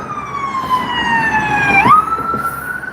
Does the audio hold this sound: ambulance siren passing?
yes